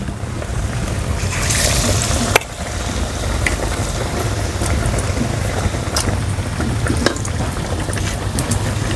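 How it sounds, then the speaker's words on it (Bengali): Batter-dipped potato filling for aloo chop drops into hot oil, giving a steady broadband sizzle with a brief sharp splash near the start, continuous and close throughout. "আলুর পুরটাকে চুবিয়ে তেলের মধ্যে ছেড়ে দেবো"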